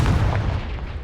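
A single heavy, booming blast of the Confringo explosive spell in Hogwarts Legacy, loud and close, with a rumbling tail that fades quickly.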